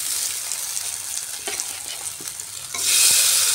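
Potatoes coated in salt and turmeric fry in hot oil for a jhinge and egg curry, giving a steady close sizzle with a few stirring scrapes, then a louder hissing burst near the end.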